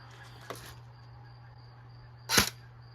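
E&C 638 airsoft gun firing a single Vulcan 0.20 gram BB through a chronograph, a sharp loud snap near the end with a fainter click earlier, over a steady low hum.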